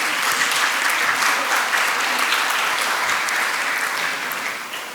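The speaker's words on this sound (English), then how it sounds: "So once again, with a big round of applause to Dr. Alexandra Roche for this." A conference audience at a national rehabilitation-in-healthcare event claps. The applause is loud, dense and sustained and fills the whole stretch, then tapers slightly at the end.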